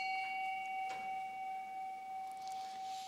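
A small meditation bell struck once at the start of a meditation service, its clear sustained tone ringing steadily and slowly fading across the quiet room with no talk over it.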